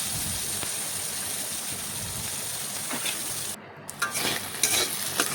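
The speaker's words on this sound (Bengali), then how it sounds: "এখন নাড়াচাড়া করে আবারও লবণটা ভালোভাবে মিশিয়ে নিচ্ছি" Raw banana pieces sizzle steadily in hot frying oil with salt while being stirred, a constant bright hiss broken near the end by a few scraping stirs against the pan.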